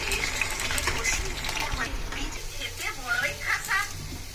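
Onions frying in a kadai with a continuous close sizzle and some stirring, steady throughout under loud intermittent talk.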